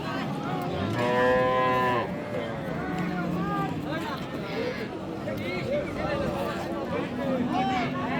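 Cows, Sahiwal dairy cows with calves, moo loudly several times, long drawn-out calls overlapping with a busy crowd of voices and general bustle at a cattle market in Raniganj, Dinajpur.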